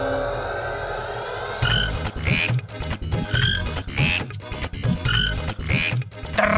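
Frogs croak in a rhythmic series of repeated calls, summoned by a magic chant in a Hindi TV drama; the croaks come loud and close over a continuous musical background.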